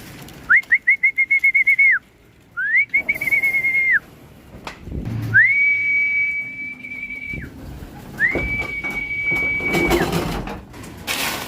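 Clear, loud racing pigeon calls close by: rapid pulsing whistles at first, then long sustained whistled notes repeated several times, with a few soft knocks between.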